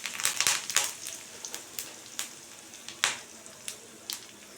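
Curry leaves hitting hot oil while tempering coconut chutney, with mustard seeds and dried chillies in the pan, giving sharp crackling pops at an irregular rhythm over a soft continuous sizzle, close and fairly quiet.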